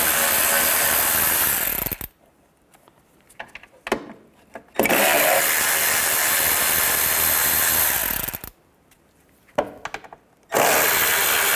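Power tool whirring on 10mm radiator nuts and bolts of a 1998-2010 Volkswagen Beetle, loud close bursts separated by quiet gaps with faint clicks and handling noises between runs.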